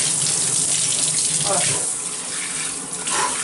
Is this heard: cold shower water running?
yes